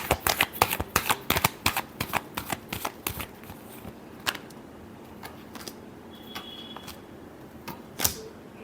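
Tarot cards are shuffled in quick bursts of sharp riffling clicks and snaps, dense at first then thinning to sparse taps and a final snap, close and moderately quiet with no speech.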